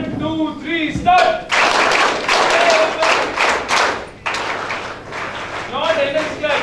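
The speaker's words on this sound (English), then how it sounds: "start a clap, a normal routine applause" Audience applause at a college event, a burst of dense clapping that starts after a second, runs for several seconds and briefly stops, with talk over it.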